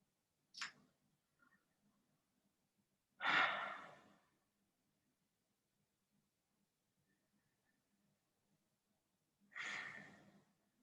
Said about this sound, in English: So breathing in through the mouth, out through the mouth.